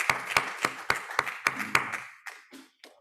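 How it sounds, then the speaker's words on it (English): At a closing plenary, a small audience claps in distinct, evenly spaced sharp claps that grow sparser and trail off after a couple of seconds. "A round of applause."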